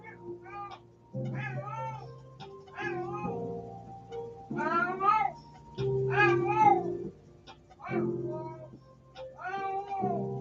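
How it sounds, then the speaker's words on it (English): A cat meows repeatedly in a room, a series of loud, close, drawn-out cries with short pauses between them, some turning into yowls. "my cat is driving me crazy in the background"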